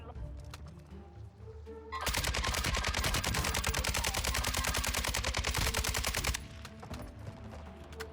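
Rapid automatic gunfire in Call of Duty Warzone 2.0 rips out in a sustained, loud burst lasting about four seconds, with softer game ambience and scattered shots before and after it.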